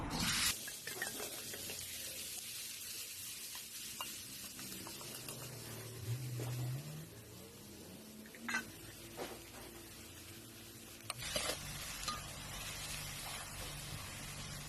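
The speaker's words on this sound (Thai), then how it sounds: "ผัดไปเรื่อยๆครับ จนน้ำที่ออกจากกบมามันแห้งครับ" Continuous soft sizzling and scraping of minced frog meat being stir-fried in a hot pan until its juices dry, with occasional utensil clinks, fairly quiet and steady.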